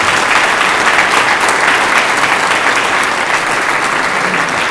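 Guests at a wedding ceremony break into steady, loud applause, a continuous close wash of clapping with no talking over it.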